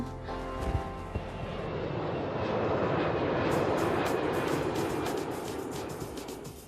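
A steady aircraft engine roar at Pudong Airport fills the scene, loud and broadband, swelling gradually toward the middle and holding there with no voices over it.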